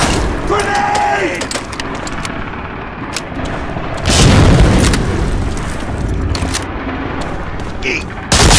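Grenade detonating in the World War II shooter Medal of Honor: Allied Assault, a loud heavy boom amid ongoing gunfire and battle noise, with soldiers shouting over the combat.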